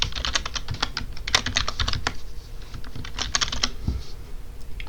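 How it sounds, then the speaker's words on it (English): Rapid, steady clatter of keys on a computer keyboard as sample data is typed in, close and continuous for several seconds with no one talking. "let's just type in some sample data"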